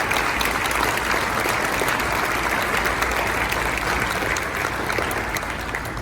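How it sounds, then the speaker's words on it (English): An audience at an award ceremony gives a team a sustained round of applause, dense and even clapping that fills the whole stretch at a steady level, with no voices heard over it. "they deserve a round of applause because they are an awesome team"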